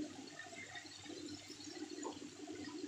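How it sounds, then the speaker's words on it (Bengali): Water is poured into a cooking pan over fried flat beans seasoned with turmeric and Kashmiri chili, a steady near rushing splash that lasts throughout with no talk. "অল্প জল দিয়ে দেবো"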